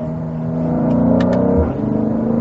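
A BMW X3 M40i engine in Sport Plus mode, a steady close rumbling drone that builds slightly and then drops with a gear change near the end, heard alone without talk.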